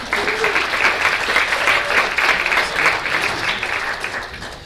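An audience claps steadily for a presenter coming on stage at a community projects showcase, a dense, continuous wash of hands throughout.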